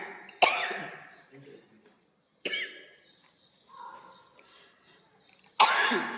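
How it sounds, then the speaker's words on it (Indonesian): A person coughs three times, with sharp, loud bursts separated by a few seconds of quiet. The coughs are close, and faint murmuring fills the gaps between them during a Sunday church service. "Kok bisa panas sekali terus batuk ya."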